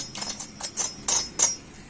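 Crisp, crunchy bites into fried bread cheese bites, a kids' snack, give four or five sharp close crackles in quick succession with short quiet gaps between them.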